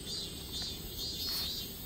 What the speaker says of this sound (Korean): 나무 위에서 매미들이 그래요 신나게 출발해 보세요 라고 응원하고 있습니다